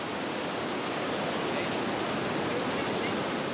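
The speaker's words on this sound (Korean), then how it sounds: "이구아수 폭포는 브라질과 아르헨티나 국경에 자리 잡고 있는데" Iguazu Falls on the Brazil–Argentina border roars as a dense, unbroken wall of rushing water, loud and constant throughout.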